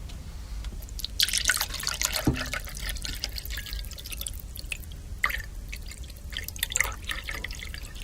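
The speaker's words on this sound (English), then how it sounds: "Okay, Jess, I'm about to start pouring now." Liquid pours and trickles into martini glasses, a steady close splashing and dripping stream lasting several seconds, with a brief clink partway through and no speech over it.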